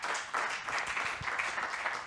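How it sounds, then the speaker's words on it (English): A church congregation claps hands together, a dense, continuous patter of many hands at moderate distance, fairly faint and even throughout. "Go ahead and give the Lord a hand clap."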